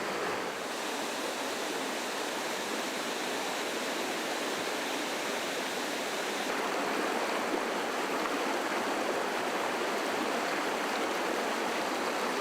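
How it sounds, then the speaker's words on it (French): The Albarine river flows steadily in the Ain, a continuous broadband rush of running stream water close by, with no voices. "C'est une rivière très poissonneuse."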